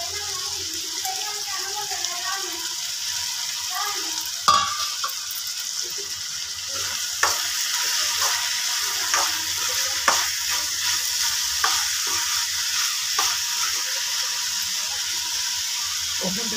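Brinjal and fenugreek leaves fry in a pan with a steady sizzle, broken by a few sharp scraping clicks as they are stirred, and faint talk early on.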